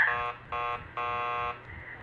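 A door buzzer rung in the video game Killer Frequency: three electronic buzzes, a short one, another short one, then a longer one, loud and close with no talk.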